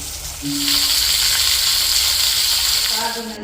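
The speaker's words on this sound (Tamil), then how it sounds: "வெந்தயம் எல்லாம் போட்டு இப்போ இதே மாதிரி வதங்கும்" Fenugreek and spices sauté in a pan with a loud, steady hissing sizzle that swells after a brief quiet start and holds throughout, with faint background sounds near the end.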